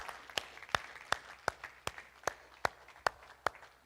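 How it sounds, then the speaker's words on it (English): Audience clapping for speakers at a closing ceremony, heard as sharp, evenly spaced claps in a steady rhythm, close and distinct over a quiet background. "Let's give a round of applause to all of our speakers."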